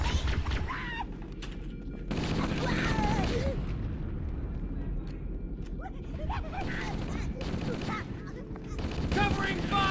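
Gunfire in the video game Halo: Combat Evolved: dense automatic bursts with weapon and effect noises in two loud stretches separated by quieter moments, under occasional speech.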